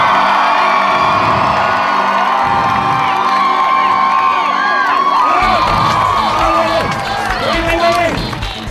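A large street performance crowd cheers loudly, a dense roar of shouts, whoops and children's high voices that swells into a louder burst of yelling partway through, with some clapping mixed in.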